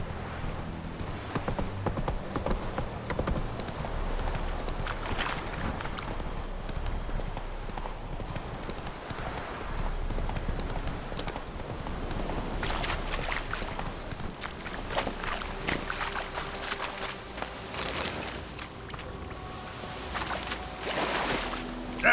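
Roach the horse in The Witcher 3 galloping, with steady rhythmic hoofbeats pounding close by throughout, over a low rumble of game ambience and occasional brief voices.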